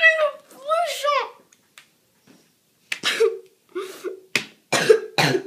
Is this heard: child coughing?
yes